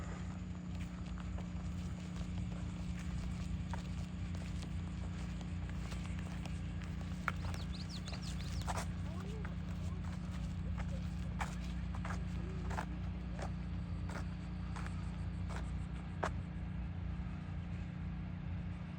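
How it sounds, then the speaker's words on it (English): Wild horses walk on Assateague, hooves giving faint, scattered clip-clops over a steady low hum of vehicles and wind, with occasional sharper knocks. "Horses love just looking for some free food."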